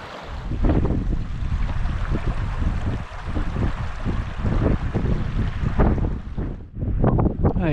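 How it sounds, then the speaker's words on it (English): Cold wind on a hillside buffets the microphone in heavy, continuous rumbling gusts, loud and close throughout with no voices. "It's quite a cold wind as well."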